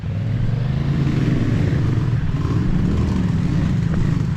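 Big motorcycles running close by, a loud steady engine rumble with slight rough pulsing and clatter, continuous throughout.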